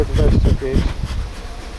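A close, dense droning buzz of honeybees at the hive, steady throughout, with a voice murmuring faintly underneath.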